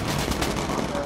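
.50 machine gun fire from a bomber in the Bomber Crew video game, a dense rapid burst of shots over rumbling engine noise.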